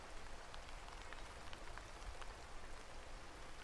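Steady rain falls in the video game Horticular, a soft even hiss of many drops that stays constant and fairly quiet throughout, with no voices.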